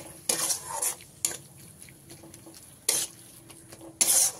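Soybean curry clattering in a pan as it is sautéed and stirred, with loud bursts of spoon scraping against the metal between quieter stretches of low cooking noise.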